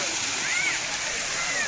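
Fountains at a zoo send out a steady, close wash of splashing, falling water that runs without a break through the whole moment, with a faint high whistle or bird call drifting over it.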